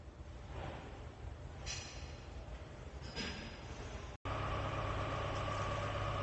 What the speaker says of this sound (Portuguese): aonde estava o barulho no motor, aquele barulho forte de rolamento, bomba d'água